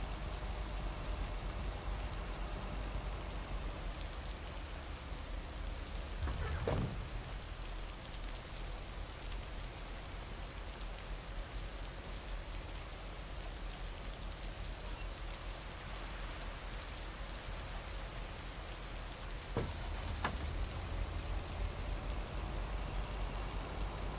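Steady rainfall in the video game Lake, a constant soft hiss of drops on surfaces with two brief louder bumps partway through and no voices.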